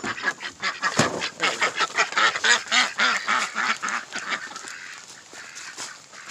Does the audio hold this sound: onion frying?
no